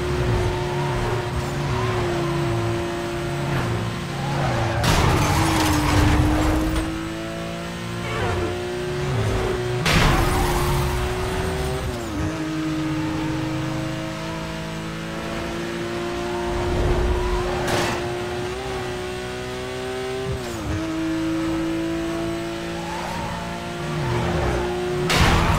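Cars in the Need for Speed racing game drive with a steady engine drone and shifting revs, broken by several sharp crash impacts every few seconds as they ram other vehicles.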